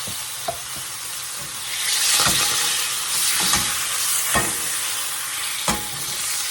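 Cheap margarine melting and sizzling in a skillet, a steady close hiss with occasional sharp scrapes and taps as it is spread across the pan.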